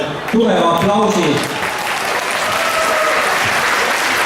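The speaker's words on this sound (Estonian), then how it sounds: "teeme neile veel tugeva aplausi" Loud, dense applause from an audience at a senior standard ballroom dance competition in Estonia, honoring the older dancers; it starts as a voice speaks over it, then the clapping continues steady and full on its own.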